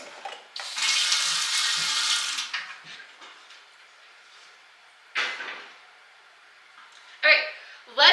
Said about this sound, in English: So we're going to get some water in this pot.